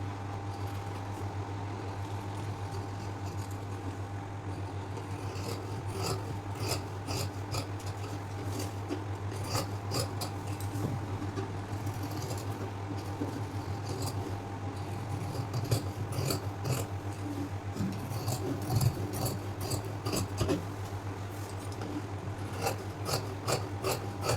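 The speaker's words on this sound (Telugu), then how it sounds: "మార్క్ చేసిన విధంగానే మనం కటింగ్ అయితే చేసేసుకోవాలి" Scissors cut blouse fabric along marked lines, producing a long run of faint, rhythmic snipping and rasping strokes over a steady low electrical hum, with no voices.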